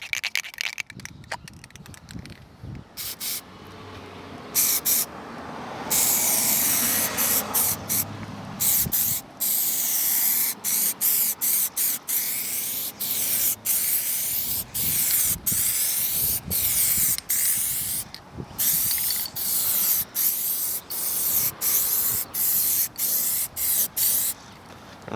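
Plasti Dip Glossifier aerosol can spraying onto car tail lights outdoors, a series of loud, close hissing bursts of varying length separated by short pauses, with wind in the background.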